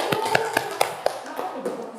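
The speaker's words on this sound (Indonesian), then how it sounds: "Tepuk tangan dulu untuk kelompok 1." A classroom of students clapping for a presenting group, a few sharp, irregular claps close by that soon thin out into scattered taps.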